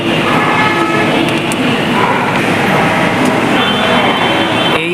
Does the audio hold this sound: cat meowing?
no